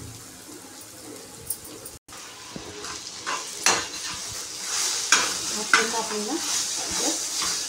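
Potatoes fry in a pan with cumin, a sizzling hiss broken by several scraping stirs and knocks of a utensil, while a voice briefly speaks.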